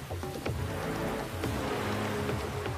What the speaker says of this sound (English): torrential rains ravage lands in South America,